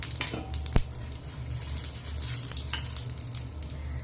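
Cumin seeds sizzle in hot oil in a pan for a vegetable curry, a soft, steady frying crackle with one sharp tap near the start.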